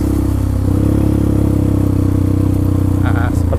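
A motorcycle rides along a road with its engine droning loud and close, a steady mid-pitched hum that rises slightly before a brief clatter near the end.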